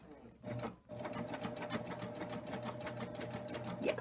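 A sewing machine stitches heavy thread at a slow, steady pace while a crazy-patch pillow is sewn, its motor hum running continuously close by for about four seconds after a brief pause near the start.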